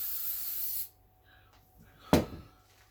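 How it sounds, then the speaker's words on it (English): Aerosol spray lube hissing onto a paper towel for cleaning O scale model train track: one loud, close hiss lasting under a second, then quiet and a single sharp click. "You start with the spray lube."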